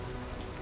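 Steady rain falls in a brief, continuous hiss, dense and even, close and moderately loud with no voices.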